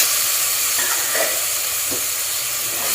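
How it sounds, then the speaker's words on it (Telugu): Potatoes and drumsticks dropped into hot oil in a pan for a gravy, sizzling steadily and loudly with a few clinks of stirring. "ఇప్పుడు ఇందులోకి మనము ఆలు మునక్కాయలు 2 కలిపి వేసేస్తాం."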